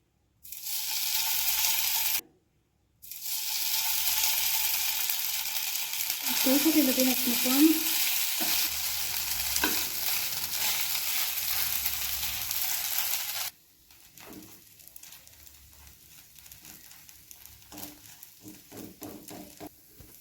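Sabudana thalipeeth mixture frying in ghee on a pan over low flame gives a loud, steady sizzle that breaks off briefly, resumes, then drops to a much quieter crackle.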